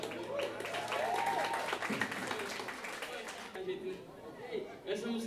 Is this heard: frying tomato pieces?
no